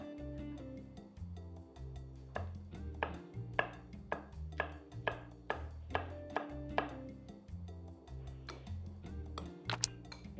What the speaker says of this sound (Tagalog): we're just chopping some leeks para pang pabango